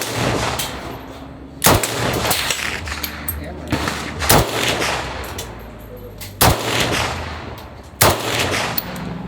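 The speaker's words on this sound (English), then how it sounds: "First one I shot was the KR-103." Four loud, sharp rifle shots ring out from a KR-103 AK at an outdoor shooting event, spaced a couple of seconds apart, with background chatter and ambient noise between them.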